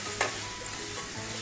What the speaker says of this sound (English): Now allow this spice to cook